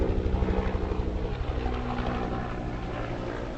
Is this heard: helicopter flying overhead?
yes